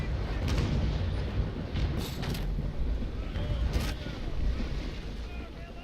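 In the game Naval Action, a sailing warship fires cannon in a broadside: a few sharp, distant booms stand out over a constant rumble of wind and sea. There is no voice.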